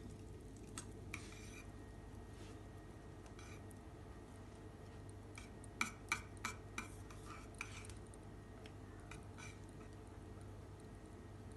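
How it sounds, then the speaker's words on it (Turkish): A spoon stirring pudding mixture with butter and vanilla in a pot, faint scattered clinks and scrapes, with a few sharper taps in quick succession partway through, over a low steady hum. "Şimdi içerisine bir yemek kaşığı tereyağı, bir paket vanilyamı da ekledim. İyice karıştırıyorum."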